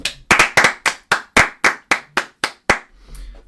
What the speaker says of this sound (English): Can we clap it up for Clayton Kershaw